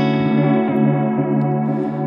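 Strymon Volante delay pedal effect on a guitar, a thick, sustained, saturated tone with warm echoing repeats and slight warble, loud and steady throughout, no voices.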